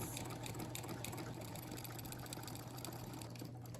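A sewing machine stitches quilt binding, a steady continuous mechanical whir with a low hum running unbroken throughout, close and moderately loud.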